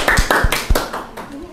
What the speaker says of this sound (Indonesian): Tepuk tangan untuk kelompok 1 semuanya.